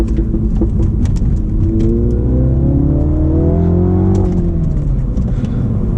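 A Dinan Elite Stage 1 tuned F56 Mini Cooper JCW pulls hard in 2nd gear, engine note climbing steadily in pitch and loudness as revs rise, then easing slightly near the end, with no talking.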